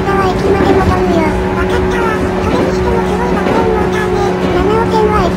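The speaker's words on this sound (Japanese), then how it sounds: "それにしてもすごい爆音モーターね。" Loud whining traction motors of a 415 series electric train running fast on the Nanao Line, a steady dense roar with rising tonal whine throughout, with a voice talking over it.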